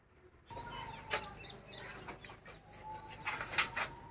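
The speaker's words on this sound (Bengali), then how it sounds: "দেখো বন্ধুরা, পায়রা দেখো, আবলুক পায়রা" Ablook pigeons in a loft, soft cooing and bursts of wing flapping close by, with rustling and a few louder flutters toward the end.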